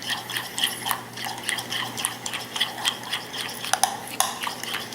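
Mustard sauce for a shrimp po' boy being stirred in a bowl, with wet scraping and clicking strokes repeating steadily and close by, alone without talk.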